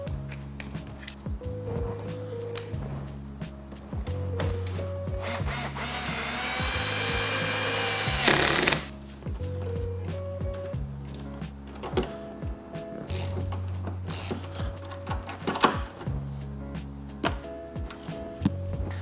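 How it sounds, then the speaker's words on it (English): A power drill with a 10mm socket runs in short bursts to reinstall headlight housing bolts on a 4th gen Ram 1500, with one longer whirring spin, ticking socket wrench clicks and a low steady hum underneath. "just reinstall these bolts with our 10mm socket, our power drill, and our socket wrench"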